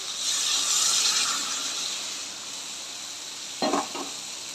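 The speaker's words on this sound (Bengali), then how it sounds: "এখন জল দিয়ে দেবো।" A pan of frying pumpkin and potato hisses and sizzles steadily up close, fading slightly, then a couple of brief knocks from the pan or spoon near the end.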